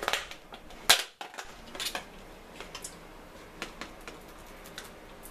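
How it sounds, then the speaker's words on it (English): A knife chops food into fine pieces on a board for homemade garlic bread, giving sparse, uneven taps and clacks, one loud sharp knock near the start and softer scattered chops after it, with no talking. "want to chop it up in fine pieces. So, give it a good chop."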